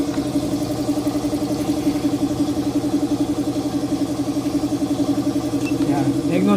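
A Yamaha Nmax V2 scooter engine, just fitted with a new CKP sensor, idles steadily nearby with an even, low, pulsing hum and no revving.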